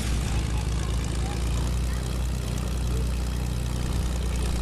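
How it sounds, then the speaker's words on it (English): A video game propeller airplane drones loudly and steadily close by, with a heavy low engine rumble under broadband roar that never lets up. "There's a plane right here."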